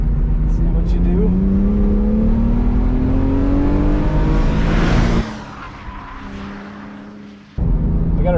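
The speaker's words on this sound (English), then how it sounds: "Back at Pineview, doing a warm-up lap in Andrew's BMW 128." A BMW 128i on a warm-up lap at Pineview track, engine droning loud and close as the pitch climbs under acceleration, then easing off to a lower, quieter note before the power comes back on, with no one talking.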